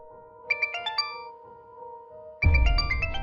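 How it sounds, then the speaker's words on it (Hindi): Phone ringtone chiming in a bright melodic pattern, playing twice with a pause between and the second round louder and fuller, left unanswered with no one speaking. "ये जूही मेरा फोन क्यों नहीं उठा रही है?"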